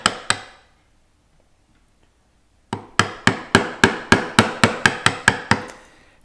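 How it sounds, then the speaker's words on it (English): A mallet drives a 1/2-inch chisel through wood while carving Gothic tracery by hand: two sharp knocks, a silent gap, then about eleven steady, evenly spaced strikes, close and loud. "on this inside, I'm going to use a smaller chisel. This is my 1/2-inch chisel."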